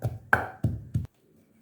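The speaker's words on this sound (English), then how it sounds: "So I pound the crayfish and the pepper together." Four heavy thuds of a pestle pounding crayfish and pepper in a mortar, evenly spaced and close, then quiet.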